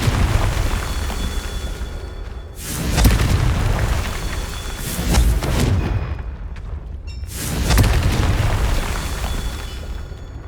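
Spell explosions from a Confringo fireball in a Hogwarts Legacy battle, three loud booming blasts spaced a few seconds apart over a continuous rumbling wash of combat noise, with no talking.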